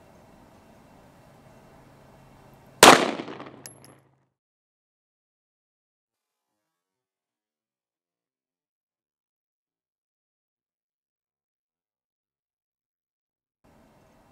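A single sharp 9mm gunshot fired into stacked fiber boards cracks once, loud and close, with a short decaying tail, followed by near silence.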